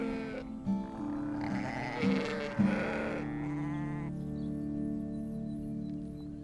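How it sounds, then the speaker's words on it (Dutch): Sheep grazing on heathland at De Hamert in Wellerlooi, with a few faint bleats over a steady low outdoor hum and some soft background voices. "nu richten we ons op de kleinere grazers, de schapen"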